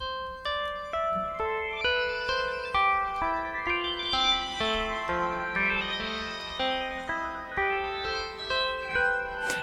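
Strings played through a Sonicware Texture Lab granular processor give a stepping, plucked-sounding melodic line over a soft sustained bed, steady and moderately loud, with pulsing grains and no voices.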